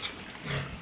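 A pig grunts briefly nearby in a rural family yard, a single low, rough snort against faint background noise.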